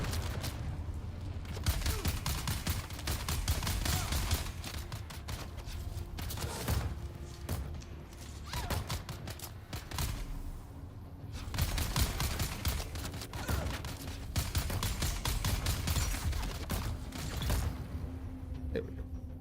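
Rapid gunfire aimed at the player's character in a Deep Desert video game session, steady crackling volleys of moderate loudness repeating throughout, mixed with creaking mechanical game noise and no talk.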